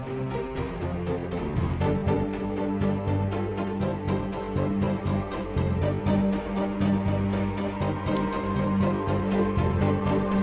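A Halo 2 song section plays, with chords and rapid hammering strings over a dense, steady backing, continuous and moderately loud throughout.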